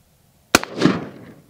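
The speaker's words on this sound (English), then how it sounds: "There it is, 223, go ahead and take the shot." .223 rifle fired at an Olympic shot put ball outdoors: a single loud, sharp gunshot crack followed by a brief echoing rumble that fades within a second.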